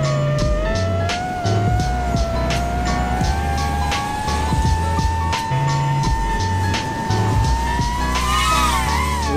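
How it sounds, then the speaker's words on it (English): A drone fitted with toroidal propellers performs a power loop, its motors giving a loud, sustained whine that slowly rises in pitch and surges near the end over a pulsing low backdrop. "That's what power loops sound like."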